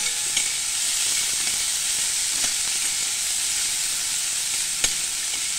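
Guar beans sauté in hot oil with garlic and coconut for gavar bhaji, giving a steady, close sizzle with a few faint stirring clicks and no talking.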